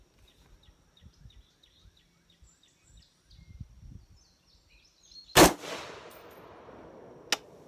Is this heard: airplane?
no